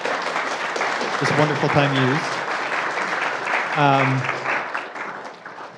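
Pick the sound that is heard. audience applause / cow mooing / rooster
audience applause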